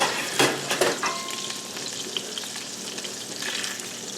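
Salisbury steaks browning in a pan, a steady crackling sizzle with a few sharp scrapes and clatters of a utensil near the start, close and fairly loud throughout.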